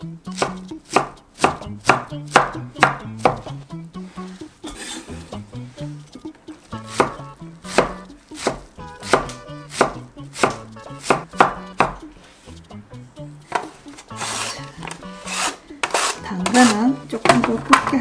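A knife chops two packs of enoki mushrooms finely on a cutting board, a rapid run of sharp, close, rhythmic knocks that slows and picks up again near the end.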